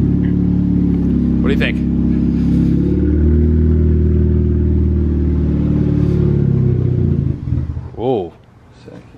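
A Mazda Miata engine cranks and catches, then idles and revs loudly up close, with a few voices talking over it before a final sharp rev.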